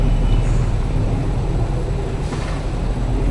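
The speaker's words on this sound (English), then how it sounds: "And that's a really loud jet." A loud, steady roar fills the air with broadband rumbling noise as a low-flying jet aircraft passes overhead in East Vancouver, continuous and unbroken.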